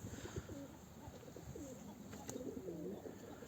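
Tumbler pigeons coo in soft, repeated rolling calls over faint background noise, distant and quiet, with no speech.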